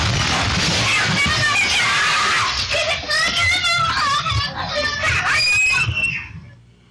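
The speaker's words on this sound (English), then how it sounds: "kids went up to a manhole cover with its sparklers, then scampered away just in time before it exploded" Crowd of children screaming loudly around a sewer gas explosion under a manhole cover lit with sparklers, shrill overlapping shrieks and yells sustained for several seconds before fading out at the end.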